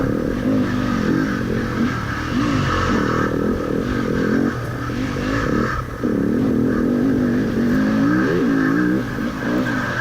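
Dirt bike engine lugging at low revs during a hare scramble race, a loud, close, steady rumble with wavering pitch as the throttle rises and falls, broken by a brief dip near the end.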